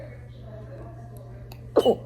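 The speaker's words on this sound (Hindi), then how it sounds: "छोटे से बेबी को खांसी आ गई" A quiet room with a low hum, then a baby gives one short cough, close to the microphone.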